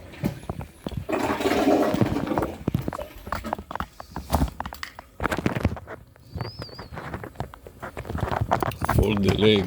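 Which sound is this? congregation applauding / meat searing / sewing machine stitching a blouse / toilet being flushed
toilet being flushed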